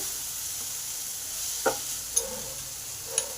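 Onions and tomatoes frying in a pan give off a steady sizzle, broken by a few light clicks of a utensil.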